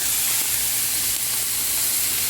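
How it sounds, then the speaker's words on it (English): Steak sears in a high-heat pan with a steady, dense sizzling hiss, close and loud and continuous, with no voices. "It's just been searing in that high heat pan there."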